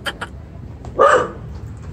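A dog gives a couple of short sharp barks at the start, then one louder, fuller bark, close by over faint background noise.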